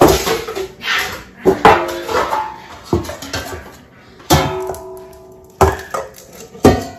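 Dog feeding bowls clatter and clank as they are handled and stacked in a kennel on raw-diet day, with repeated loud metallic knocks and ringing tones close by.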